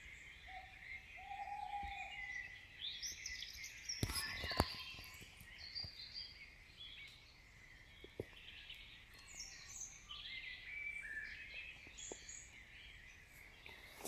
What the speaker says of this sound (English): There's plenty of birds awake.